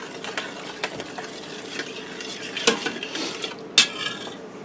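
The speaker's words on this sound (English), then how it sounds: "let me give that a stir quick" Cajun chicken with salt stirred in an Instant Pot's metal inner pot: soft scraping with scattered utensil clicks and one sharper clink near the end, close and moderately loud, no talking.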